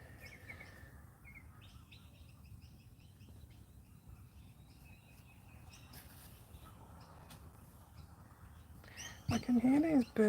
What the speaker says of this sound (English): I can hear these birds behind me.